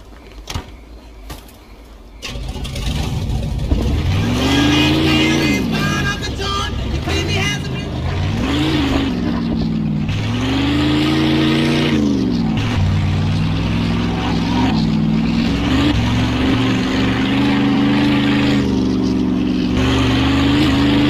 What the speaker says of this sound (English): I'm gonna drive this baby over to Derek's.